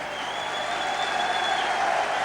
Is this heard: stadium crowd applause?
yes